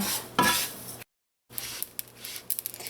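Cumin seeds crackle and tick as they dry-roast in a hot pan with scraping and clinking of a utensil, then a brief silence before more scattered light pops and taps.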